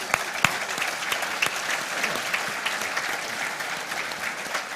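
An audience at a crypto community meetup in Athens breaks into sustained applause, dense overlapping claps from a small indoor crowd filling the room with a few sharper nearby claps.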